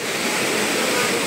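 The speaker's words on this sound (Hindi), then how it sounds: "ये देखो ये झरना गुफा में से निकल के आ रहा है" A waterfall pours out of a cave near the Muktagiri temple, giving a steady, loud broadband rush of falling water that holds unbroken for a brief moment.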